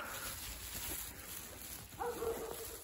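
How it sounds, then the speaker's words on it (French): Dogs barking in a forest, faint and distant, a couple of short yelps rising out of the background hum of the woods. "J'espère qu'il va pas aller là où il y a les chiens qui aboient."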